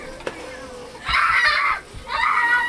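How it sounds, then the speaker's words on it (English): Children's voices shout and chatter in two bursts from another room, muffled and somewhat distant, with a faint clink before them. "Can you hear my kids?"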